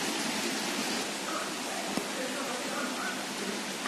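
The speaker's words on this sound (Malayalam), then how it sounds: "ഇവിടെ നല്ല മഴയുണ്ട്, 7 മണിക്ക് തുടങ്ങിയതാട്ടോ ഗൈസ് മഴ." Heavy rain pours steadily in a broadband hiss that stays loud and even throughout, with a brief thud near the middle and no talking.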